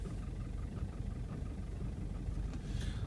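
Isuzu 4JX1 diesel engine idling steadily just after starting, a continuous low rumble with no talk over it.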